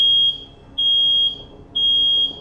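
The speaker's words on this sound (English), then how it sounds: "Apparently the fire alarm in my apartment" A smoke alarm in an apartment blares three sustained shrill beeps at a regular pace, each roughly half a second long with brief pauses between. The tones stand out clearly over faint room hum, with no speech.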